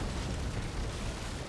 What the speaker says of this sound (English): They're firing cannons.